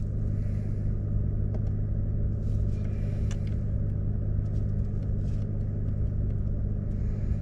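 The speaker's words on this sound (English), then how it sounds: "While we're letting the truck warm up and check it for leaks" A 2024 Nissan Frontier Pro-4X pickup idles while warming up, a steady low engine rumble holding even throughout with faint scattered clicks above it.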